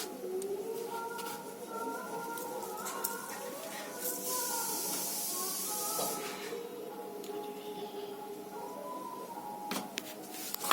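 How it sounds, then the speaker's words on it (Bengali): Small chuno fish frying in oil in a pan, a steady broad hiss held across the whole stretch with a brighter surge midway, under continuous background music or voice. "চুনো মাছগুলো আমি প্রথমে ভেজে নিচ্ছি।"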